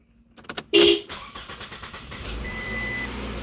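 A Scion car is started: a short horn-like chirp and starter crank, then the engine catches and settles into a steady low idle that continues to the end, close by.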